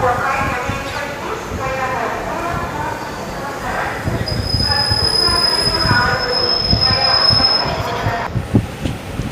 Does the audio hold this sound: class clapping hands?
no